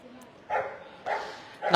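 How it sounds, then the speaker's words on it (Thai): A K9 rescue dog from a national urban search-and-rescue team, getting a health check after a building collapse in Chatuchak, gives three short, sharp barks spaced about half a second apart, close by, with people faintly talking. "ตรงนี้สุนัขเคนาย ยูซานะคะจากทีม สุนัขเคนายยูซา สุนัขกู้ภัยแห่งชาตินะคะ"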